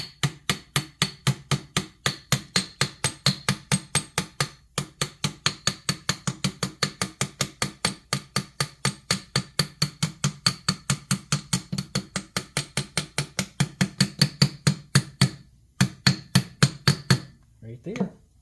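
Steady run of sharp hammer blows, roughly four per second, struck with a plastic hammer during mechanical work, loud and close, with a brief pause midway and a few scattered final taps.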